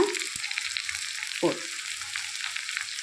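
Cut flat beans (thattai kai) sprinkled with salt sizzle softly in a pan, a steady low hiss broken by a couple of sharp clinks of a spoon against the pan, with no talking.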